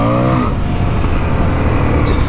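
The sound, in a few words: Indian motorcycle revving, rear wheel spinning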